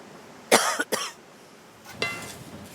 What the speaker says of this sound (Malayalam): മൂത്ത് ചുമ വരണം എനിക്ക്.